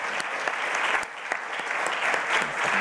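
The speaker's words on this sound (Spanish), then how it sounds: "Un aplauso para ellos, los doctores." An audience at an award ceremony applauds doctors being honoured, a steady, full round of clapping from a crowd indoors, sustained without a break.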